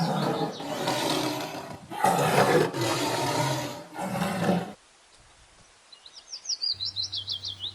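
A tiger lets out several loud, rough roars in quick succession, followed by quiet and then rapid bird chirps.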